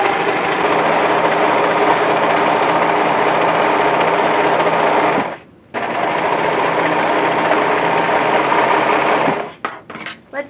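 A serger sewing machine cuts, seams and gathers two layers of fabric, running loud and fast with a dense rattling buzz, pausing briefly midway, then resuming before stopping in short bursts at the end.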